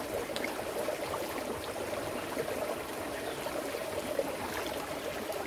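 A steady wash of flowing water babbles and trickles continuously, moderately near, with no talking.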